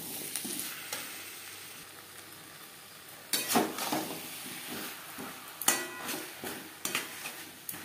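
Seven or eight very small tomatoes go into a frying fish and taro curry, a soft steady sizzle broken by several sharp bursts of stirring and scraping in the pot.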